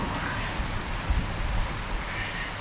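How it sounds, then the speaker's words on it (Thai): Steady rain falling outdoors around a bird-keeper's home in Thailand, a dense even hiss with faint low rumbles, continuous throughout and fairly close. "ฝนก็ตก"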